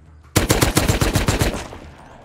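A rapid automatic burst of about ten gunshots erupts in the survival video game Rust, loud and evenly spaced, then trails off into a fading echo.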